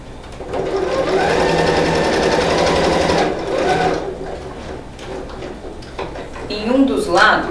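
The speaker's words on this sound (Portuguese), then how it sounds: "Máquina de costura, eu vou passar uma costurinha aqui e aqui." A sewing machine stitches fabric for a patchwork wallet, whirring in a loud continuous run for about three seconds before stopping and starting in shorter bursts, with a voice talking over it.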